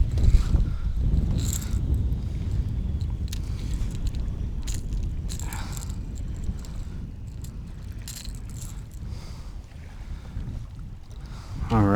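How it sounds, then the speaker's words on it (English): Strong wind buffets a kayak on a lake, a heavy low roaring rumble that gusts continuously throughout, with faint knocks and splashes of water against the hull and no talking. "It is super windy out here."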